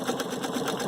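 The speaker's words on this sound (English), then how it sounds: "Let's stitch one out so you can see how it stitches out" Viking Sapphire 930 sewing machine stitching a decorative pattern with a braiding foot, a steady rapid mechanical chatter heard up close and alone for under a second.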